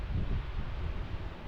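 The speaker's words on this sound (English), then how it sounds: "Although it was a little windy on our trip" Gusty wind buffets the microphone at the North River Falls lookoff in Nova Scotia, a steady, rough, low rumble that fills the whole stretch with no voices.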